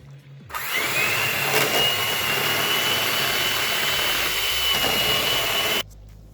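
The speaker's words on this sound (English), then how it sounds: "Now I'm going to mix with my hand mixer." A hand mixer whirs steadily as it beats egg into choux pastry dough for French eclairs. The motor starts abruptly, holds a loud, even hum for about five seconds, then cuts off, with no talking.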